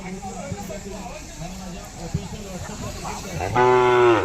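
Voices talk in a busy outdoor crowd, then a native Indian bull lets out a loud, long, deep moo close by near the end.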